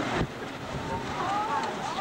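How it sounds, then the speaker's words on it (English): Wind buffets a microphone outdoors in a strong, steady rumbling roar, with a faint voice partly buried beneath it. "It's rotten wind."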